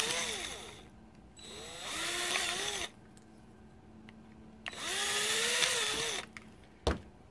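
A power drill whirs in two bursts of a few seconds each, drilling holes in 3D printed snow blower mounts, its pitch rising and falling as it bites, with a sharp knock near the end.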